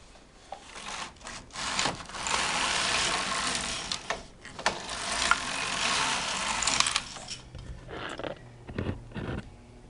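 A double-bed knitting machine's carriage knits rows in long rasping, sliding sweeps, followed by shorter clicks and swishes as the pass ends.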